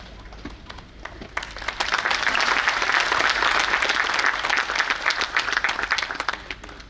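An audience at an inauguration ceremony for the 'Hamara Samvidhan Hamara Samman' campaign claps loudly for the chief guest, the applause swelling into a dense sustained roar and then thinning toward the end.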